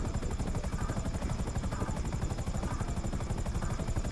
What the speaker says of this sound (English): We got to hit the helicopter.